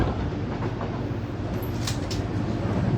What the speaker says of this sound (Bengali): আমি আছি ট্রেনে ট্রেন থেকে আজকে আপনাদের সাথে লাইভ করছি